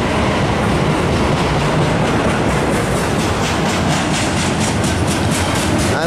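NS 222, an intermodal double-stack freight train led by three rebuilt AC44-9 locomotives, rolls past close by at CP Beaumont. Its loud, dense roar is steady throughout, with a faint rhythmic clatter of the cars and no voices.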